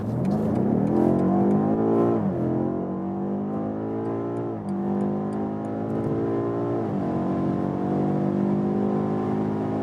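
A 625 hp BMW M8 Gran Coupé accelerates hard in its M1 automatic shifting mode, engine note rising loudly through three gears with brief dips at each upshift, heard from inside the car with no talk.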